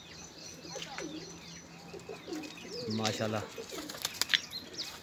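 Racing pigeons coo softly in repeated low calls while someone speaks briefly, with a few sharp flutters near the end.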